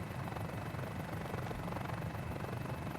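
A helicopter in a flight simulator, a constant rotor and engine drone with a rapid chopping pulse, steady and even for the whole stretch, fairly quiet with no talking.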